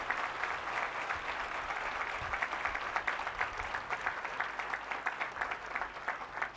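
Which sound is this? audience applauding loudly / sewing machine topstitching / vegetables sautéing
audience applauding loudly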